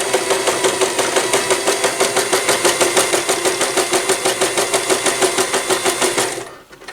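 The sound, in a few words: sewing machine stitching face wipe corner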